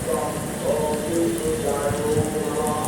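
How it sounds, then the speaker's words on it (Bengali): Onion, tomato and green chili fry in hot oil with a little salt for a spicy fish curry masala, giving a steady, close, loud crackling sizzle that runs without pause and without talk. "তারপরে পেঁয়াজ ভেজে টমেটো আর কাঁচা লঙ্কাটাকে দিয়ে একটু নুন দিয়ে ভালো করে ভেজে নিচ্ছি।"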